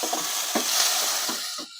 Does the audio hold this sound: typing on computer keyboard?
no